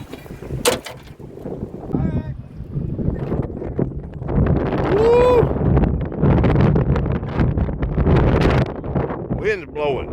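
Wind blowing outdoors on a boat during magnet fishing, loud buffeting gusts rumbling against the microphone throughout, with people talking over it.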